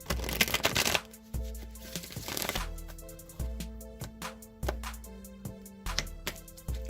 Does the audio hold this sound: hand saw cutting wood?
no